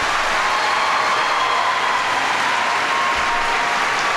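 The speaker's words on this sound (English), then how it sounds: "Please give a warm round of applause to our Vice President Biden." A large high-school audience claps steadily in a dense, continuous wash of applause for the U.S. Vice President, with no voices heard over it.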